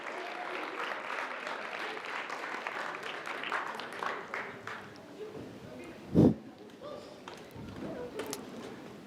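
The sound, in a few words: audience applause at a live show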